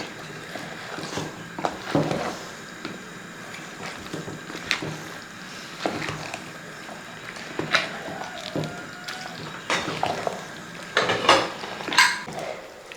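Tapioca and bone biriyani being worked together by hand in a pot, giving irregular clinks, scrapes and soft knocks of moderate loudness, with no talking.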